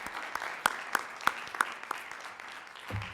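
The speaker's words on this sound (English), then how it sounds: "One big round of applause for Dr. Merritt Nash, the new Senior Diversity Officer" Scattered audience applause closes a college lecture event, a modest, fairly close patter of claps with a few sharp louder hits, fading out near the end.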